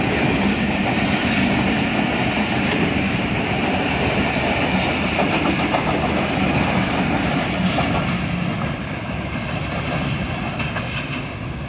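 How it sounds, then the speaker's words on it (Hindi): The 73 Up rail car from Rawalpindi to Lahore passes Sohawa railway station, a loud, steady rumble of wheels with clickety-clack over the rails, sustained close by throughout with no voices. "ये रेल कार इस टाइम रावलपिंडी से आकर लाहौर जाने के लिए 73 अप रेल कार जो है वो पिंडी की तरफ से"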